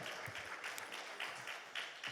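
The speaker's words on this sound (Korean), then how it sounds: "목사님 나오실 때 우리 할렐루야라는 하나님께 영광의 박수를 드립니다." Church congregation applauding a pastor as he comes forward at a prayer retreat, faint scattered clapping with a loose, uneven rhythm heard briefly and at a distance.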